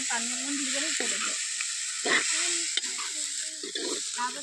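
Meat sizzles steadily as it fries in a pan during home cooking for a shared meal, with intermittent scraping from stirring and faint voices underneath.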